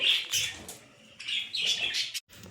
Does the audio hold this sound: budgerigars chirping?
yes